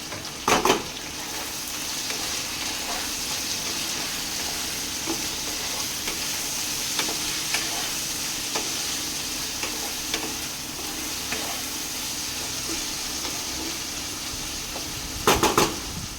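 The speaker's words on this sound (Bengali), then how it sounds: "এবার আমি এটাকে দিয়ে ভালো করে ভাজবো।" Onions and potatoes sizzle and fry in goat fat in a pan, a steady crackling hiss broken by a few sharp clanks of a utensil stirring at the start and end.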